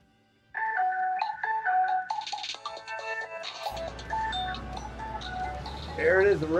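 A phone ringtone in Farming Simulator 22 plays as a bright repeating electronic melody for about three seconds, then gives way to a denser, noisier mix of game sound and voice.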